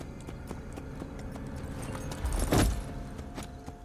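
Horse hooves clip-clop at a gallop in the video game Assassin's Creed Brotherhood, a quiet rhythmic patter that builds to a louder burst of movement midway before settling back.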